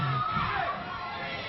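A wrestling arena crowd jeers and shouts at a wrestler, a dense mass of raised voices, loud at first and easing slightly as it goes on.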